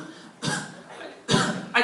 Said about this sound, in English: I heard some of you kind of coughing